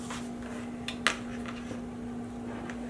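Hammered metal canisters with wooden lids handled on a table, a few light clinks and one sharper metallic knock over a steady background hum.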